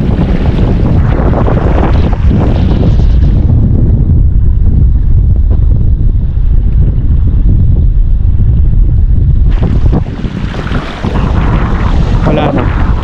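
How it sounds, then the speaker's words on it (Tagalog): Strong, gusty wind buffets the microphone at Los Vaqueros lake during trout fishing, a loud, continuous roar that barely eases midway before surging again, with no clear talk over it. "Grabe yung hangin, sobrang hangin."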